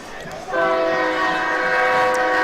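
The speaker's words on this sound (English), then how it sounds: "And now I hear the train coming." A train horn sounds near a high school football field during a Morrilton vs. Nettleton game, blaring steady sustained tones that begin abruptly and hold loud over crowd and field noise.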